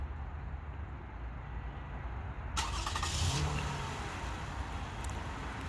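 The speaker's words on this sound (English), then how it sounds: "Car starts up, runs for about 15 minutes, and then shuts itself off." A 2015 Toyota Highlander starting by remote start: faint quiet background, then a sudden crank and catch partway through, settling into a low steady idle heard from nearby outdoors.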